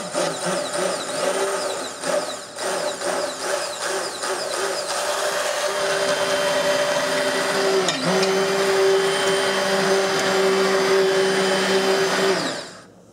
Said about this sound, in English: We're then going to blend the dry ingredients in with our cold grape juice.